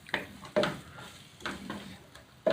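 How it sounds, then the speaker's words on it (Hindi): Onions fry in a pan for queema, browning lightly while being stirred, with a soft continuous sizzle broken by a few sharp scraping strokes of the spoon, close and fairly quiet, with no talking. "ये प्याज में इसमें डालूंगी। इसको मैंने हल्का सा ब्राउन करना है।"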